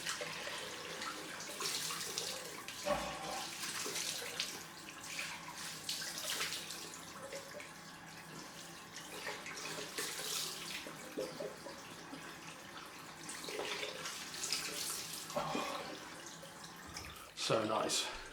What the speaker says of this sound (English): Let's get some cold water on it.